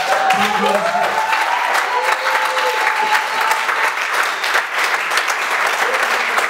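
A church congregation applauding to acclaim the Lord during a seminar, steady loud clapping filling the whole stretch with some cheers and voices over it.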